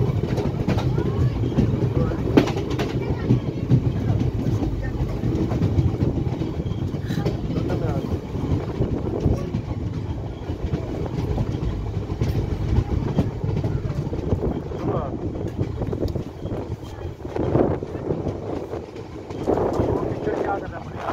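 A train runs along the tracks with a steady, loud rumble and rattle of wheels and carriages, close by, with wind buffeting the microphone throughout.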